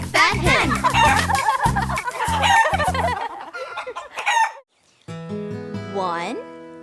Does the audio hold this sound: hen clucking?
yes